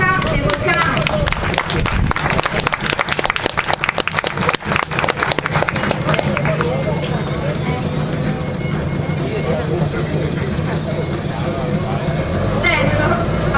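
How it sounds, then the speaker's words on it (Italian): Audience clapping at an outdoor parade of ancient costumes styled on the fifth century BC, dense sustained applause under a loud announcer's voice that gradually thins out. "Un applauso a Nerca e Volcano."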